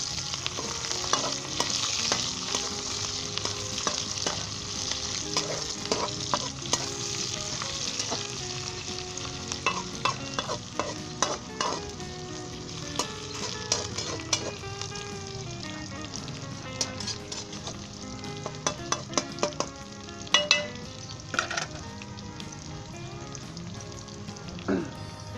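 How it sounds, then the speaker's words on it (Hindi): Green chillies sizzle in a pan with browned ginger, garlic and onion, a steady close frying hiss broken by scraping and clinking of a stirring spoon throughout. "अब इसमें सब्ज़ मिर्च डाल लें, तो इसे 1 मिनट के लिए आप फ्राई कर लें।"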